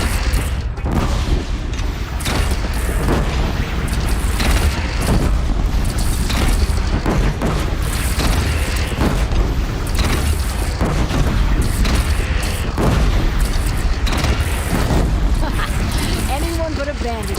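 Cannon fire in a video game battle against a bandit clan: repeated heavy booms and crackling blasts sit within a dense, loud, continuous battle din that never lets up.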